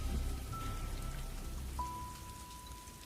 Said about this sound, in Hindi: बारिश अब भी रुक रुक कर हो रही थी।